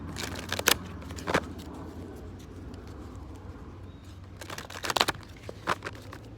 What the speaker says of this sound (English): Let me give it a few shuffles.